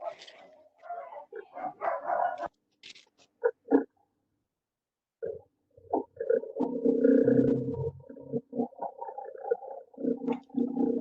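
Dogs at a neighbour's home bark in scattered, distant-sounding yaps and woofs, some in quick clusters, heard alongside and between a person's speech.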